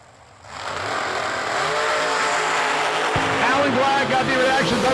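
A supercharged Maryland-based dragster at a drag race builds from quiet into a loud, sustained engine roar that holds steady through the run, with a track announcer talking over it.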